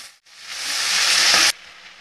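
Bathua greens dropped into a hot pan give a loud hiss that swells for over a second and then cuts off sharply, leaving a faint steady background.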